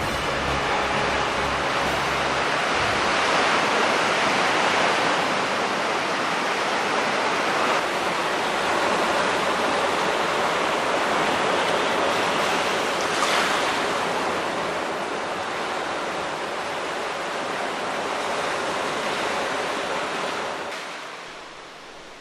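Ocean surf crashes and churns against a rocky island shore on Christmas Island, a loud, continuous roar of breaking waves that swells and eases slightly before fading near the end.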